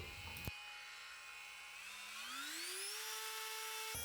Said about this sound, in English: I fast forward these clips as it isn't super interesting watching me carve a pipe body with different attachments for 25 plus minutes.